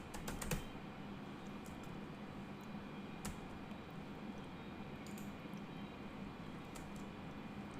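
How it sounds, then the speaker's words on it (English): Typing on a computer keyboard, a steady run of soft, close key clicks continuing throughout at an even pace with a couple of sharper taps, alone without talk. "let me just type it here."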